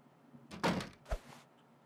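A side door swings open in the survival game The Long Dark, a short creak and scrape followed by a dull thunk, heard alone and fairly close.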